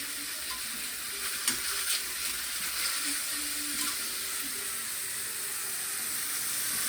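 Salted mushrooms browning in a hot pan at a breakfast stove, giving a steady, close sizzle and crackle of frying with faint occasional stirring taps, no voices.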